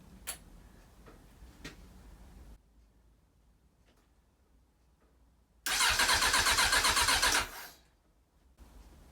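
A Suzuki Bandit motorcycle with repaired earth and starter faults cranks on its electric starter after a few faint clicks, giving a loud, rapid, whirring churn of about two seconds that then stops. The engine does not catch, and no one talks.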